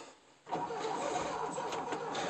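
An engine cranks and catches about half a second in, then settles into a steady running roar close to the microphone, fairly quiet overall.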